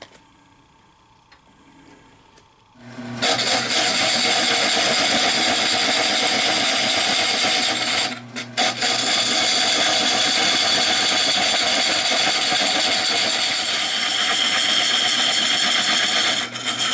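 A wood lathe spins up while turning a white oak bowl. After a quiet start the motor comes on abruptly and hums loud and steady, with a brief dip partway through.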